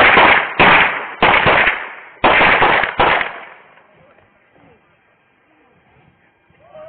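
Real-life shooting during a street confrontation: five sharp, loud gunshot bursts in quick irregular succession, fading into near silence afterward.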